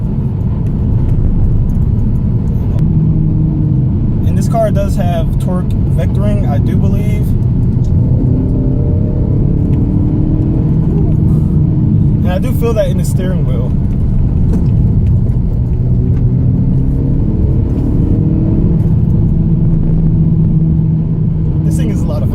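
A Hyundai Veloster Turbo Rally Edition rolls over a rough road, its steady low engine and road rumble running continuously beneath someone talking throughout.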